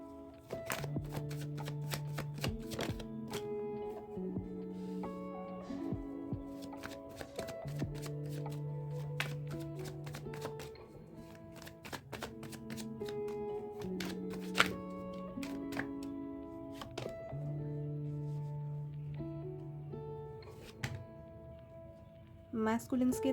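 Tarot cards being shuffled and drawn, repeated crisp riffles and soft slaps of cards landing in a steady rhythm, with a low droning tone running underneath.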